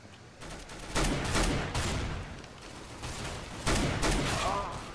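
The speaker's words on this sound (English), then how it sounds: "Oh, shoot, he shot me with a pistol" Gunfire in CS:GO, including a pistol shot, pops out as several loud, sharp bursts over a busy game background, with a player's voice talking along the way.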